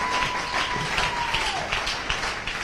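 A church congregation applauds, dense continuous clapping from many hands filling the room at an even, fairly loud level, with a steady tone sounding faintly over it.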